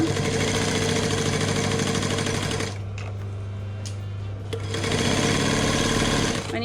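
A sewing machine stitches fabric for a crayon roll with a fast, even mechanical hum. It stops briefly in the middle, then starts up again close by.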